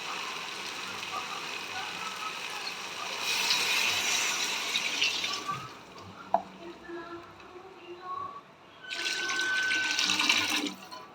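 Water is poured from a measured amount into a cooking pot of sautéed onions and ghee for ghee rice, two splashing pours of a few seconds each over faint kitchen background noise.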